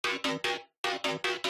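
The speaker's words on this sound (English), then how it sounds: "And now the sausage fattener." A metallic bass synth patch built in Serum and thickened with the Sausage Fattener plugin plays short, punchy repeated notes, three hits, a brief gap, then four more in a tight rhythm, bright and buzzy with no talk.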